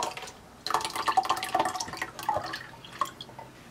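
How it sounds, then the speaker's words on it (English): Canned coconut milk pours into a coquito mixture with a close, bubbly glugging and splashing that starts abruptly and trails off into a few drips. "Let's pour it in."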